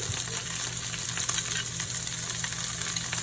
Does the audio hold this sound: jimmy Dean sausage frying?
yes